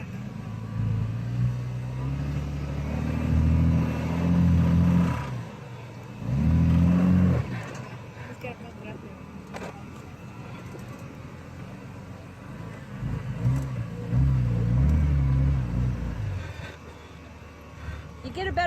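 An off-road vehicle's engine revs on a rough backroad to Crown King, rising in loud bursts over a steady low rumble, with people talking over it.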